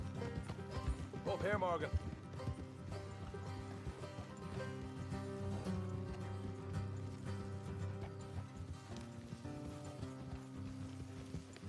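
Horses trot along a road in Red Dead Redemption 2, hoofbeats clopping under steady background music, with a brief whinny early on and a voice speaking over it.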